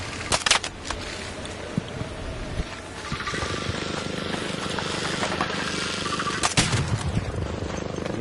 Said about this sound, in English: I hear a Bastion shooting.